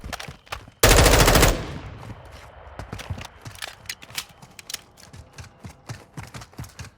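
Gunfire in the video game Warzone 2.0: a loud, dense burst of shots near the start, followed by quieter, scattered sharp impacts and clicks.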